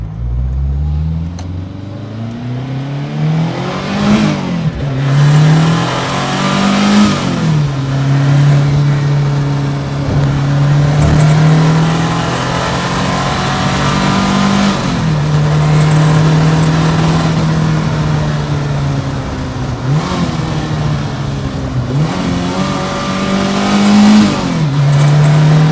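A 1981 Renault R5 Turbo engine revs hard through repeated gear changes on a twisty road, heard from inside the car, with the pitch rising and dropping again and again over a steady loud drone.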